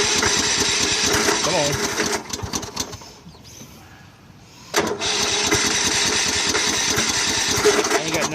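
A Troy-Bilt Super Bronco lawn tractor, its fuel drained over winter, cranks and sputters on a cold start, drops quiet briefly, then catches and runs loudly and steadily up close while someone speaks briefly.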